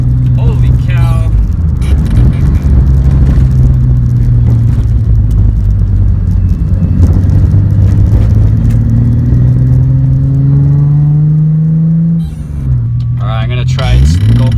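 Heavy low engine drone from a VQ35-swapped Nissan S14 240SX on the move, a steady loud rumble that rises in pitch under acceleration, with a brief dip near the end and someone talking over it throughout.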